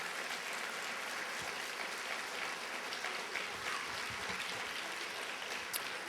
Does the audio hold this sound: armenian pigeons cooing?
no